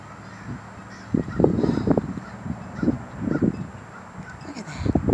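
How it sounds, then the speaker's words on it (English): An odd-looking duck of unclear type calls in a few loud, harsh honking bursts close by, spaced irregularly over several seconds above a low steady background hum. "That is one weird looking duck."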